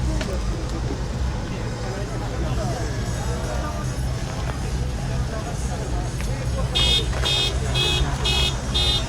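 A car alarm on a Japanese street near a station sounds a series of repeated electronic beeps toward the end, rising over steady traffic rumble and a crowd hubbub, with voices talking throughout.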